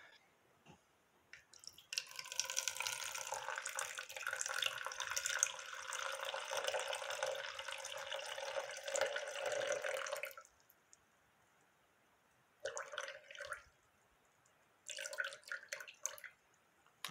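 Water poured into a container sitting on a kitchen scale, a close, steady splashing trickle lasting several seconds, followed by two shorter pours after a pause.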